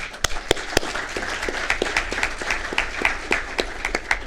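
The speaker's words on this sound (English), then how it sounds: "So I think a big round of applause for your new guys." An audience at a city council meeting applauds newly hired firefighters who have finished probation, with a few sharp, close individual claps standing out from a steady, moderate round of clapping.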